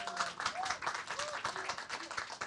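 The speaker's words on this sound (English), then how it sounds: "Big round of applause." A modest audience at a capacity-building session claps, scattered hand claps heard faintly and somewhat distant, with voices and murmuring mixed in underneath.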